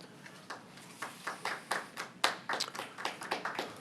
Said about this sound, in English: Please refrain from clapping or any outbursts during the speeches